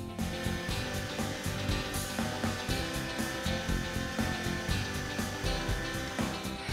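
An electric meat grinder, a combination grinder and juicer, runs steadily while grinding onion for cutlet mince. Its motor whirs loudly and evenly throughout, with rhythmic crunching pulses and no speech.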